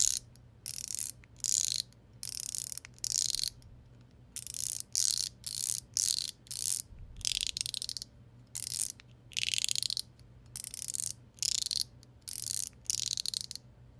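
A Crispy Stick fidget toy fitted with stainless steel beads gives bursts of bright, rattling clicks, each lasting a fraction of a second, repeated in quick irregular clusters at close range against a quiet background.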